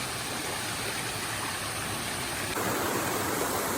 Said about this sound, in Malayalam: നമ്മുടെ പുറകെ കാണുന്നതാണ് ആനക്കുളം വെള്ളച്ചാട്ടം